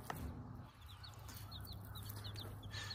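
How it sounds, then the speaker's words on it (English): Game hen clucking with her chicks on a farm, soft repeated clucks over a steady low hum with faint high cheeping from the chicks. "So that is a game bird, which probably got some hatch in it."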